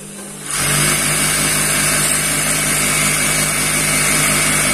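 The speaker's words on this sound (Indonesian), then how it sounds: "jika bunyi dari mesin jahitnya sudah halus seperti ini" A used sewing machine running smoothly after a loose thread is cleared, giving a steady, continuous mechanical whir that starts abruptly and then holds at an even, fairly loud level.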